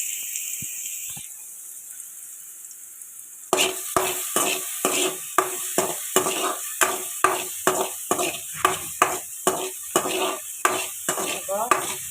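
Chopped ingredients hit hot coconut oil in a pan and sizzle loudly, followed by a steady series of sharp scraping stirs and clinks at close range, with no talking.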